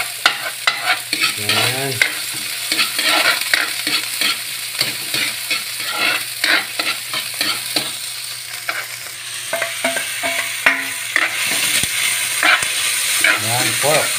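Pakbit sautéing in a pan with pork and onion, a loud close sizzle broken by frequent clattering stirs of a utensil, with a brief spoken word.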